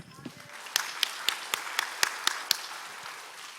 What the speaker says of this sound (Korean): 하나님의 영광에 박수